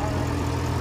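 A Porsche Panamera's 4.8-litre turbo V8 idles with a deep, steady low burble, loud and close throughout the brief moment.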